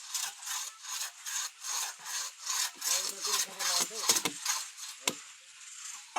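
A hand saw cuts through wood in rhythmic back-and-forth rasping strokes, about a dozen of them, close and clear, ending in a sharp crack.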